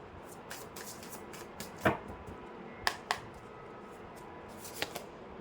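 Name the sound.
tarot cards being shuffled and drawn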